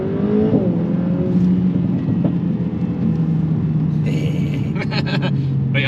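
A Mercedes A45S AMG accelerates hard from inside the car, a loud sustained engine drone rising steadily in pitch, with some rattling clicks near the end.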